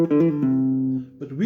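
Bass riff notes played on guitar: a few sustained plucked notes, clean and fairly quiet, one long ringing tone in the middle before another note slides in.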